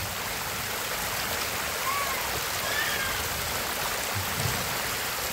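Heavy rain from a strong storm in Guatemala pours down in a dense, constant hiss, unbroken from start to finish, with a few faint thuds low underneath.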